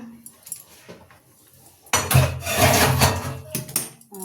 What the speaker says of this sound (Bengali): কড়াতে তো রাখবো না, এই যে ঢেলে দিচ্ছি